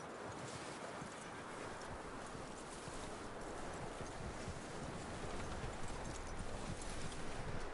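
Horse hooves clip-clop in a steady rhythm in the video game Red Dead Redemption 2, under a broad rush of wind-like noise, continuous and fairly quiet, with no talking.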